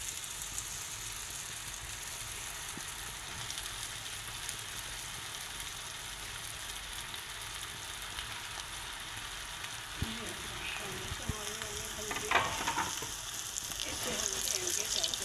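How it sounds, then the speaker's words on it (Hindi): Crispy potato balls deep fry in hot oil, a steady, even hiss of bubbling close by and low in level, with a few light clinks of a utensil toward the end. "इनको भी हम करेंगे फ्राई।"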